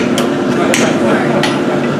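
A hammer strikes metal three times with sharp, close, ringing blows about half a second apart, over a steady workshop background.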